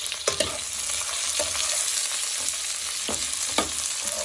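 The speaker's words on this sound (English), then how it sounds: "Put onions in heated oil and they will brown very quickly" Onions frying in hot oil for dark Punjabi chole, a dense steady sizzle with sharp crackles and a few stirring scrapes, close and loud with no voices.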